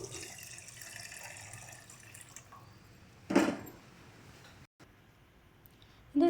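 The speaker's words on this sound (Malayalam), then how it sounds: "ഒരു ബൗൾ വെള്ളം കൂടി ഒഴിച്ചു കൊടുക്കാം കേട്ടോ" A bowl of water is poured into a pot of Palakkad-style mackerel curry. A faint watery trickle runs throughout, with one short, louder splash midway and another at the very end.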